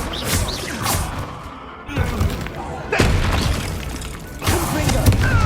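Bombarda spell blasts in the Hogwarts Legacy video game land as several booming, shattering impacts a second or so apart, set over continuous game effects.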